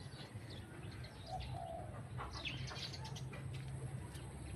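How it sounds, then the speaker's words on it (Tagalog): Birds call faintly in the distance in the countryside over a steady low rumble, with a few brief chirps and a soft coo-like note standing out. "Mga ibon, no? Ay, ang ibon."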